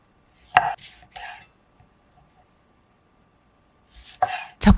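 A knife cuts tomatoes into quarters on a cutting board, giving a few sharp, close thuds in two short bursts separated by a quiet pause.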